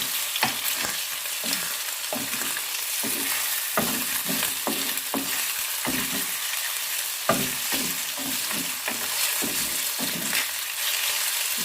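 Pieces of pepper chicken breast in a stir fry sizzle steadily in a hot pan while being flipped and stirred, with repeated scraping knocks and rustles over the continuous frying hiss.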